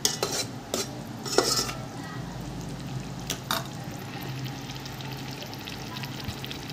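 Kasuri methi is stirred into frying onion sabzi with a spoon scraping a pan, giving a few distinct clinks and scrapes over a soft, steady sizzle.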